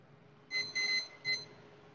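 Three short electronic beeps from a kitchen timer being set while noodles cook, the second beep longer than the others, fairly loud over a quiet room hiss.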